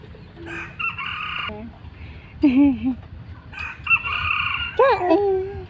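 Several roosters crow in turns, some nearby and loud, others farther off, with hens clucking faintly in between.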